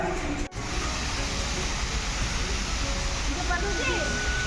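Steady broadband rush of a waterfall at Vandalur Zoo in Chennai, a constant hiss filling the scene with a brief dropout near the start and faint tonal chirps or voices appearing toward the end.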